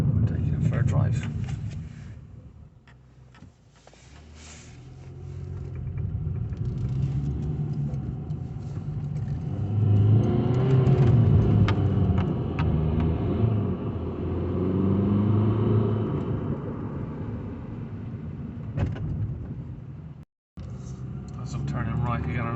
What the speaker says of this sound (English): We're taking it for a drive.